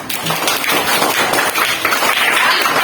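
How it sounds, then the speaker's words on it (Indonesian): A classroom full of people claps together in a dense, sustained burst of applause lasting a few seconds. "Tepuk tangan dulu untuk teman kita."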